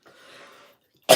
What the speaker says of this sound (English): I was not coughing a minute ago now.